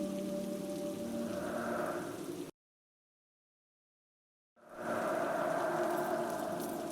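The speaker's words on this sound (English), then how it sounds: "Ethan stepped out into the pouring rain and inspected the tire." Steady rain hisses and patters loudly, cutting to total silence for two seconds before the downpour resumes just as strong.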